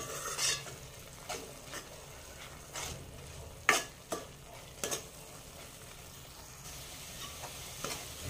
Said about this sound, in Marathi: आता हे काजूची पेस्ट छान आपण परतून घेऊया